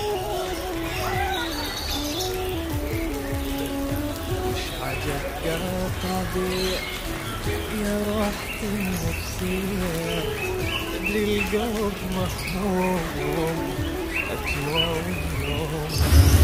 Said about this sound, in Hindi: देखिए कितने लविंग पैरट है।